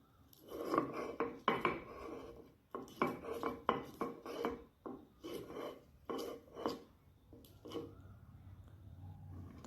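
Garam masala spices ground by hand for a Bengali chicken curry, a run of scraping, rasping strokes against a hard surface with clinks, steady and fairly close, with no talk.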